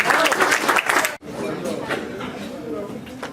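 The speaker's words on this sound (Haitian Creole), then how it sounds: "Applaudissez, s'il vous plaît." Audience applause at a gathering, a burst of many hands clapping that briefly cuts out, then resumes more softly with crowd chatter and voices beneath it.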